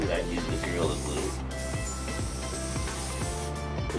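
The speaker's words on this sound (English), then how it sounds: "here I spray this right up to where I've got my threads" Gorilla Glue spray adhesive hisses onto the backing of a tufted rug in short repeated bursts, close up, with someone talking over it.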